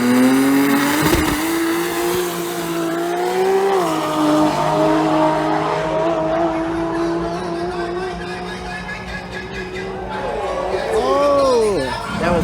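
A drag race car at Souped Up 2024 in Southeast Asia roars loudly through its run, the engine pitch climbing and shifting across gear changes, with tire squeal and a sweeping whine near the end.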